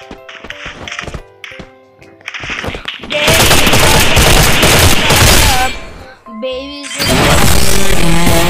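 Rapid bursts of automatic gunfire from the Free Fire battle-royale game, dense sustained volleys with brief gaps, loud and close, broken by a few sharp single shots and game sounds.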